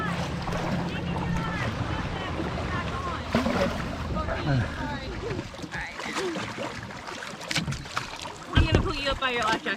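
A kayak is paddled on the water near Burgess Falls in Sparta, Tennessee, with splashing strokes, rushing water and wind under a voice talking throughout.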